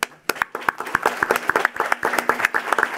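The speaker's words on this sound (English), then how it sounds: "Let's give one more big round of applause for the Earl all-girl chess team" At a Chicago Board of Education meeting, people in the room clap for an all-girls chess team. The applause starts after a brief quiet, then becomes a fairly close, uneven patter of distinct claps from a modest group.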